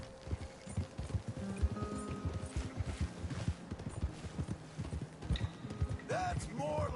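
Horse hooves clip-clopping in the video game Red Dead Redemption 2, a steady rhythmic trot close by across the whole stretch, with a voice briefly over it near the end.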